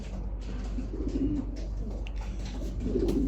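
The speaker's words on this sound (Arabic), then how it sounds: "يعني هذا الطير اخو ساندي اول ناشونال" Soft racing pigeon cooing, low and throaty, repeating in gentle phrases against a steady background hum.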